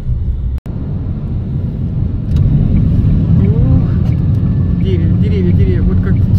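A car driving around a sunny town in Italy, with a steady loud engine and road rumble throughout and a brief dropout early, while voices talk faintly over it.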